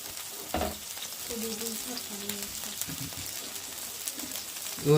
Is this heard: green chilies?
yes